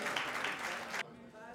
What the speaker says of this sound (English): A round of applause for Sister Wendy.